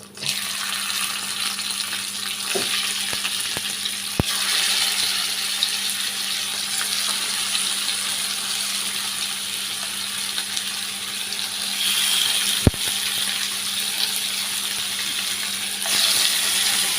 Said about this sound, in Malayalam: നമ്മുടെ മീൻ ഇവിടെ കിടന്ന് മൊരിയുണ്ട് കേട്ടോ.